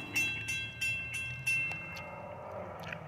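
An NJ Transit Bombardier ALP-45DP locomotive hauling double-decker passenger cars in Middlesex, New Jersey, passes by with a rhythmic series of sharp wheel clacks over rail joints, fading into a steady rumble.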